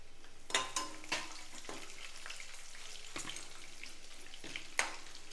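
Broken dried red chillies join mustard seeds and urad dal frying in hot oil for a puliyodharai tempering, a quiet sizzle punctuated by a handful of sharp pops and spoon clicks, close by.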